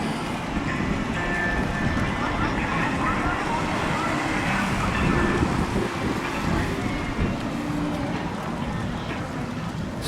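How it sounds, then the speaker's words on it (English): Steady wind gusts buffet the microphone on a seafront at night in Great Yarmouth, a continuous rushing roar with faint water sounds beneath and a voice speaking in places. "It's a bit windy out here tonight"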